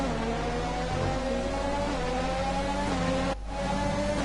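An F1 car in the F1 2020 video game, on the Bahrain circuit, holds a steady, moderately loud engine tone, then cuts out abruptly for a moment near the end.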